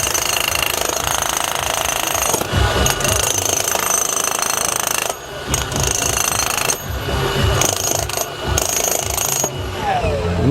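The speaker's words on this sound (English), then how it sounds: "this is a really aggressive hammer" A DeWalt demolition hammer breaks concrete, hammering loudly and rapidly in long bursts with short pauses between them, close by, with a little talk in the background.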